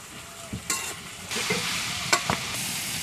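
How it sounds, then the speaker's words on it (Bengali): Thick village-style egg curry masala scraped and stirred in a pan, with a soft frying sizzle broken by several sharp spatula scrapes and clacks at irregular intervals. "ভালো করে আরও কিছুক্ষণ কষে নেব।"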